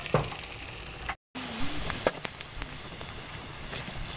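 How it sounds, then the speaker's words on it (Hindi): Chopped onions fry in a pan for an arvi masala, a steady soft sizzle with occasional stirring scrapes and clinks, close and continuous, with a brief cut of silence partway through. "तकरीबन इसे 3 से 4 मिनट के लिए हम गोल्डन होने तक प्याज को कुक करेंगे।"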